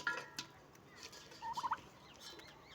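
On a turkey farm, a turkey lets out a short, rapid gobble in the middle of an otherwise quiet moment, fairly faint and somewhat distant.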